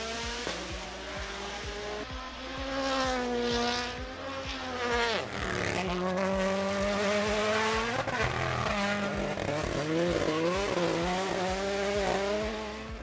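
A Toyota GR Yaris Rally 1 rally car with a 1.6-liter turbo engine of roughly 500 horsepower screams loudly and continuously on low-grip terrain, revving up and down through quick gear shifts with a few sharp drops.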